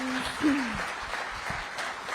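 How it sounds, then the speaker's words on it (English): A town hall crowd in Wexford County, Michigan, applauds its panel after a meeting on PFAS and drinking water, a steady wash of many hands clapping at moderate distance, with a brief voice at the start. "applause for our panel"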